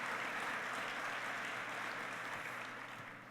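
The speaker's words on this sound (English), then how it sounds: "So how about giving Howard a round of applause here for getting us started here this morning." An audience at a U.S. Army event claps steadily for the speaker who opened the morning session, the applause moderate in level and easing slightly toward the end.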